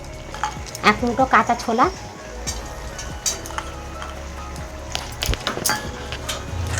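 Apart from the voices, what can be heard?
stirring spinach frying in a pan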